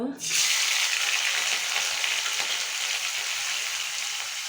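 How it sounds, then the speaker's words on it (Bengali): Prawns hit hot oil in a kadai and fry with a loud, dense, close sizzle that holds steady after a sharp start, with no talking over it. "বন্ধুরা দেখুন, আমি এখন চিংড়ি মাছগুলো ভেজে নেব।"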